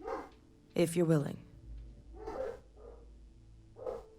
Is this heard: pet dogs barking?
yes